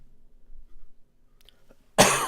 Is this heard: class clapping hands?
no